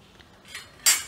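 A spoon stirs Kashmiri red chili masala through cashews in a bowl, giving faint scrapes and then one bright, sharp clink of metal against the bowl at the end.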